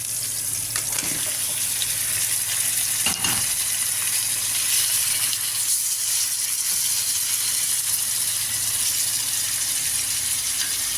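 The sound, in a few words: meat frying in fat with sautéed garlic and onion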